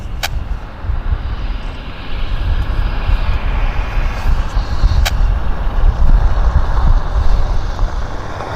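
A Korean Airlines airliner on approach to Vancouver Airport gives a steady, fairly loud broadband engine roar with low rumble, holding throughout and swelling slightly toward the end, with a couple of brief sharp clicks.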